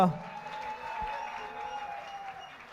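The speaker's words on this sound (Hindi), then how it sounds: "जोरदार तालियां" An audience at a film music launch event applauds, with a soft spread of clapping under a sustained tone from the sound system, fairly faint and distant after a brief opening sound.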